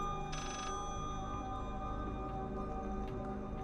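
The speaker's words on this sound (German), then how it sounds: "das ist das nächste Telefon" A telephone rings in the horror video game Layers of Fear, a continuous electronic ring heard over a low droning ambient background, fairly faint and steady throughout.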